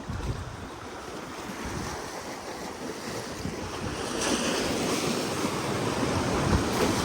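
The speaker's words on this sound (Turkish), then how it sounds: "Ama burası biraz rüzgarlı ya." Strong wind gusts buffet the microphone outdoors, mixed with the wash of nearby surf, rising louder in the second half; no speech.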